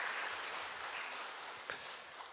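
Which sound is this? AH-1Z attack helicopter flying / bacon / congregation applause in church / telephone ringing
congregation applause in church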